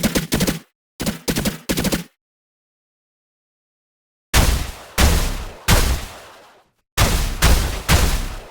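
Electric sci-fi weapon effect built with the Weaponiser plugin and electricity layers: loud, punchy zapping shots, first in quick groups of three with a long silence between, then heavier, longer blasts with crackling tails.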